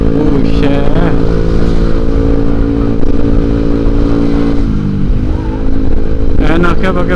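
Honda Vario bore-up motorcycle weaving through busy traffic, its engine droning steadily with occasional revs and the surrounding road noise, heard up close throughout.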